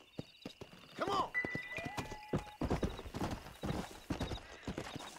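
Horse hooves clip-clop in irregular bursts and a horse whinnies once in the Red Dead Redemption video game, with game sounds overlapping and a brief tonal cue.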